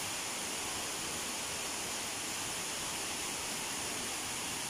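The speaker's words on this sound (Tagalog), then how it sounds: "Lakas po ng agos ng tubig dito mga boss." Strong river current rushes steadily past Wawa Dam in the forested mountains of Montalban, Rodriguez, Rizal, Philippines, a dense, continuous broadband roar of water, close and unbroken, with no voices over it.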